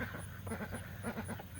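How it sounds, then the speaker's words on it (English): Excited ducks beside a rice field being flooded on a farm give repeated, rapid honking quacks, close and overlapping in a busy, irregular chorus. "the ducks are all excited"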